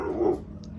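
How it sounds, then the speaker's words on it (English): A dog gives a short, low rumbling growl at close range, under a second long, indoors at home. "You're just a big, silly puppy dog."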